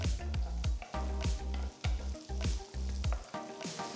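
Onion and capsicum wedges sautéing in a hot pan, a loud steady sizzle broken by repeated stirring scrapes and clatters in an uneven rhythm, with no voices.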